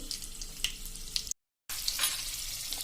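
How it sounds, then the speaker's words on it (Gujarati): Fenugreek seeds and two chillies crackling in hot oil for a bottle gourd khichdi, a steady close sizzle with scattered sharp pops, cut by a brief drop to silence before the frying resumes. "અને આપણે એકદમ સરસ ક્રકલ થઈ જાય મેથી"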